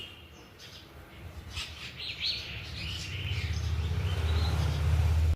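Common myna birds chirp and chatter in short bright bursts, moderately close, over a low hum that grows steadily louder toward the end, with no talking.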